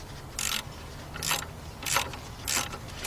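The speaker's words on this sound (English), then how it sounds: "I'm going to take my ratchet over here and I'm going to loosen it up" Ratchet clicking in four short bursts while loosening a nut on a 1993 Nissan Altima engine, each burst a quick dry rattle of pawl clicks, close and fairly quiet with pauses between.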